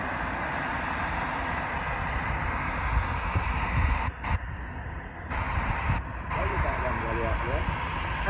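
A British Airways Airbus A321 takes off, its engines a steady broad roar heard from a distance and sustained throughout, with people talking over it.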